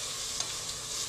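Onion fries and sizzles in hot oil in a home kitchen, a steady close hiss with a faint stir or tap partway through, and no talk.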